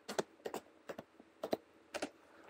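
Keys tapped on a computer keyboard in small clustered bursts of sharp clicks, close and quiet, with short pauses between groups.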